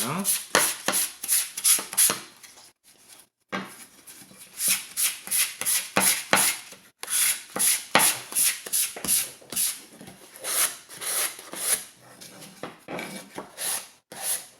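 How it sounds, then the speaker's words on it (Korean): Close, rhythmic scratchy rubbing of sandpaper on wood, brisk back-and-forth strokes with a couple of brief pauses. "자, 우선 사포질을 좀 하겠습니다"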